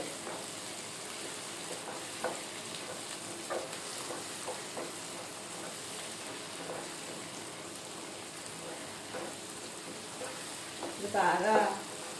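Soya chunk curry fries in a pan, a soft, even sizzle with light stirring taps, close but fairly quiet, with a brief louder clatter near the end.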